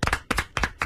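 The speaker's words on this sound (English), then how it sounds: "Big round of applause for Medicated Pete." Hand claps in a comedy club for a comedian doing impressions, four sharp, evenly spaced bursts of clapping, close and fairly loud, with short gaps between them.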